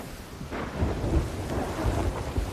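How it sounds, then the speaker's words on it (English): Thunderstorm in the Sea of Thieves video game: a continuous loud roar of rain and rolling thunder fills the whole stretch, steady and close, with no voices. "But now we're driving into the storm"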